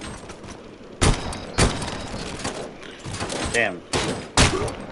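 Heavy gunfire from a gun in a Robocop video game booms in several loud, spaced blasts with rumbling tails, and someone speaks briefly between shots.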